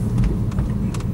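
A BMW F30 with a completely flat run-flat tire rolls through a neighborhood at low speed, giving a steady, close road rumble and low tire drone throughout the short stretch, with no talk.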